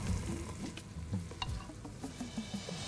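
Soaked rice stir-fried in a pan for a paneer paella, with close, soft scraping and stirring over a faint sizzle in irregular strokes.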